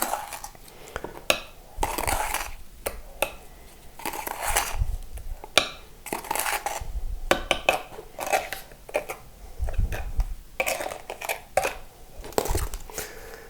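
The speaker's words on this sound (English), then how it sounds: "Okay, so we'll apply the grout." Grout is worked by hand onto a mosaic of raised tile pieces, with scattered clinks, scrapes and soft taps at an irregular rhythm, close and moderately loud.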